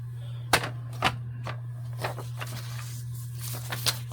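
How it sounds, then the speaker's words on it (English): Paper being cut in half with scissors while making a book cover: a handful of crisp, separate snips at uneven intervals over a steady low electrical hum, with no talking. "I'm just gonna cut this in half"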